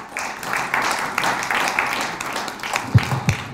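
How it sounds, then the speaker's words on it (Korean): Audience at a political gathering applauding a National Assembly member: a dense, continuous wash of many hands clapping, moderately loud and even throughout, with a couple of thumps near the end. "김성원 국회의원님께 큰 박수 부탁드립니다"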